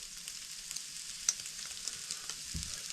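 Onions frying in a pan for a chili, a quiet even sizzle with a few faint stirring clicks and one sharper tap.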